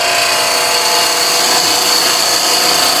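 Wood turning on a lathe, with a gouge riding its bevel through the cut, makes a continuous, loud whirring hum layered with steady hissing, scraping shavings; no one talks.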